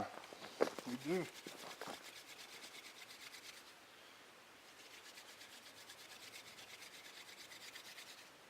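Wooden spindle of a hand drill friction fire spun against a notch in a wooden board, giving a dry rasping rub with brief louder strokes early, then a steady soft scratchy texture, close and fairly faint.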